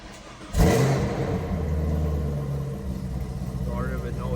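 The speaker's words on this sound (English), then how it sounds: "But yeah, let's start the car." A 2018 Chevrolet Camaro ZL1, recently repaired for a random misfire, cranks and fires up with a sudden loud burst, then settles into a deep, steady idle rumble close by.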